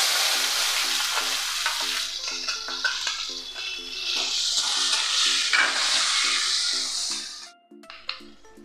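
Onion and chopped tomato frying in a pan with cumin and bay leaf produce a strong, close sizzle, accompanied by repeated rhythmic stirring clinks before the frying abruptly fades near the end.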